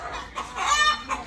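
A few short clucks from a rooster or hen come close and fairly loud, in short bursts over about a second with a pause between them.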